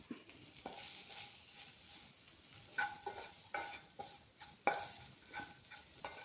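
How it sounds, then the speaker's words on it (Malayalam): Paneer tikka masala stirred in a hot pan, faint steady sizzling under repeated spoon taps and scrapes against the metal, fairly quiet and close, with no voices. "1 മിനിറ്റ് ഒന്ന് സ്റ്റെയർ ചെയ്യുക, ഒന്ന് ഇളക്കിക്കൊണ്ടിരിക്കുക 1 മിനിറ്റ്"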